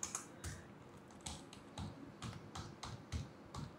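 Someone types a name on a computer keyboard, a run of faint, irregular key clicks close by with no talking.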